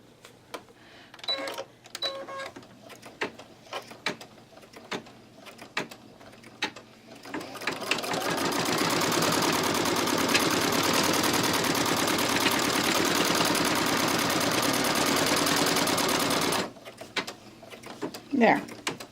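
An embroidery machine stitching a dark fabric layer held in a hoop runs as a dense, rapid mechanical chatter for about nine seconds, loud and steady, with scattered clicks and handling noises before and after.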